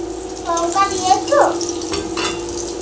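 Food frying in a pan at home as it finishes cooking, a steady sizzle with stirring scrapes and a few brief tonal squeaks from the utensil, moderately close.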